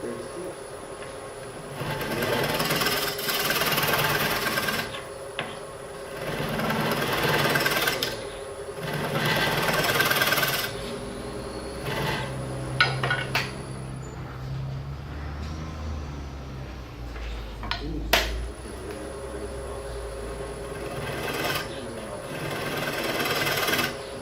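A scraper cuts a square wooden bowl spinning on a wood lathe, giving repeated loud bursts of rough chattering cuts over the motor hum, with pauses between passes and a person speaking at times.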